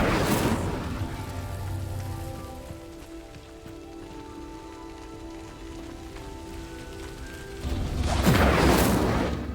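A fire spell in the Hogwarts Legacy video game sets a pyre burning: a loud whooshing flare of flame at the start, a quieter crackling, rain-like hiss with a low hum through the middle, then another strong burst of flame at the end.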